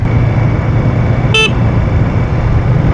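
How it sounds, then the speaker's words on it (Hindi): A Honda CG 150 motorcycle sounds one short, high horn beep over steady engine and road rumble while riding. "हॉर्न भी ठीक ठाक है"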